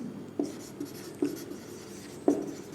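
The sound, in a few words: writing while solving a physics problem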